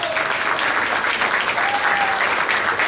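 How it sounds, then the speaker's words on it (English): Cinema audience at a screening and cast interview applauding, a loud, sustained wash of clapping with faint voices underneath. "So first I want you guys to give yourselves a round of applause."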